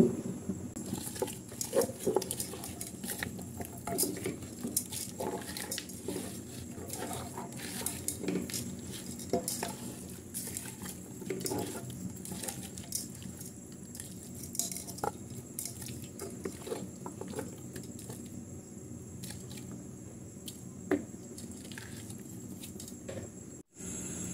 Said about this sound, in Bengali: সব উপকরণগুলো একসাথে দিয়ে ভালো করে মেখে নেব